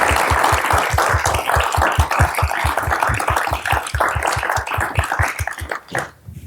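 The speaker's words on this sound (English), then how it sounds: "I want us to give a round of applause to Tim and Gerard." An audience applauds at the end of a program at a public talk, with steady, dense clapping that holds for several seconds and then stops abruptly.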